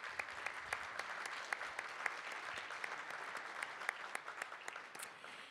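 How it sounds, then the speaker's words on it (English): An audience at a public talk on PFAS and the health of the Huron River applauds its speakers with steady, even clapping, heard faintly from a distance. "I also want to give a big round of applause to our speakers and our presenters."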